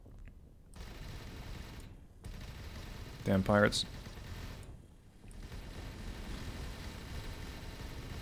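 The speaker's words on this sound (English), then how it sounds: "That's the lasers from that cruiser." Laser fire from a cruiser in the space game Avorion, a short burst of rapid zapping shots over a steady engine rumble, with someone talking briefly.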